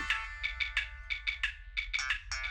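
A mobile phone ringtone of quick electronic chirping beeps in short bursts of notes, repeating rhythmically and clearly over a low background hum, with no voices.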